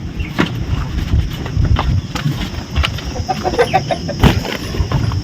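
Chickens cluck in short bursts amid a busy outdoor background at a village home on a Sundarbans island, with occasional sharper calls standing out.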